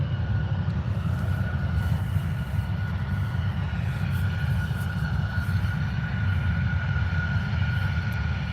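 Boeing 737 airliner at Birmingham Airport, UK, a steady broadband engine roar holding evenly throughout with a faint high whine, no voices.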